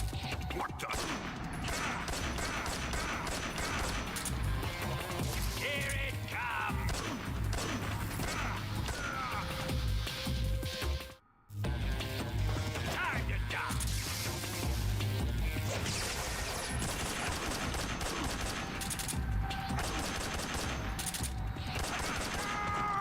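Dense game combat in Metal Gear Solid 3, with repeated SVD sniper rifle shots among crashing impacts and clattering mechanisms, loud and continuous over a busy soundtrack, broken by one brief dropout midway.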